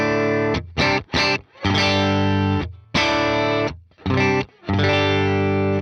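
A heavily distorted electric guitar runs through a BluGuitar Amp1 into a Quad Cortex cabinet sim, playing loud chords in bursts with short silent gaps.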